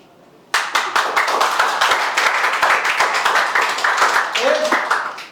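Dense, steady applause from a classroom audience cheering a student's speech at a class coordinator election, many hands clapping close and continuously for several seconds before tapering off.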